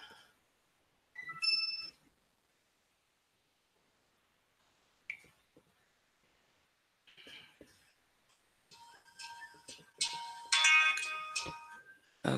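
A phone rings in short electronic bursts, one near the start and a busier stretch toward the end, with quiet gaps between and a few clicks and small handling noises in a room.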